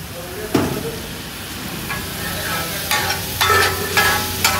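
Bhaji pala made with potato and water being stirred in a pot, with soft scraping strokes and a low cooking sizzle; several stirring bursts come at irregular intervals, fairly close.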